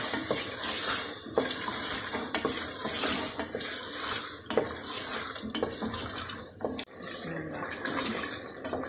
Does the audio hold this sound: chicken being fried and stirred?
yes